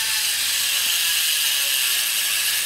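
Rear hub freewheel ratchet on a hardtail mountain bike, 120 points of engagement, giving a continuous high, dense buzzing click as the wheel coasts, steady and close with no voices.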